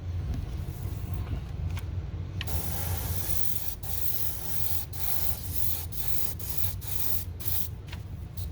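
Mr. Surfacer primer sprayed onto a Fujimi Dino 246 GTS model car body: a continuous soft spray hiss over a low background hum, broken by several brief clicks and pauses, with no one talking.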